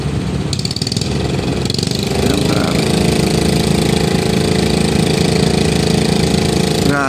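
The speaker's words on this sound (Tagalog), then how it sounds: "So, pina-under ulit yung kanilang generator." A generator running steadily at a welding job site near Fort Santiago, producing a loud, continuous engine drone that holds throughout without pauses.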